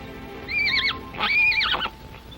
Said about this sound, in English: You will need a strong horse.